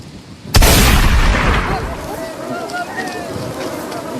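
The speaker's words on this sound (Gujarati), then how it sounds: "હવે બંદૂક ફોડીને તને દેખાડી દઉં." A single loud gunshot-like boom bursts out near the start of a rural Gujarati comedy scene, followed by a long fading rumble with wind noise and faint voices after it.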